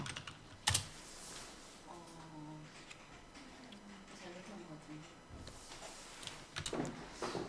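Computer keyboard keys click during image editing, with faint bursts of presses at the start and end and a voice talking in between.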